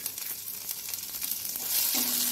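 Cumin, dried red chili, asafoetida and chopped garlic sizzle in hot oil in a kadai, a close, continuous crackling fry that swells louder toward the end.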